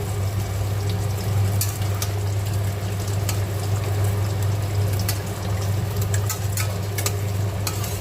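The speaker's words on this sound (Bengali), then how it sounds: "মাছগুলো এবার দিয়ে দিচ্ছি, ঝোলটা ফুটে গেছে।" Fish dropped into a boiling curry broth, with steady bubbling and sizzling over a constant low hum and scattered small splashes and clicks, close and fairly loud throughout.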